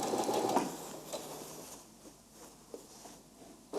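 A sewing machine stitches darts on a back skirt piece for a dress, with a short burst of stitching, a pause, then quieter intermittent running at a low level.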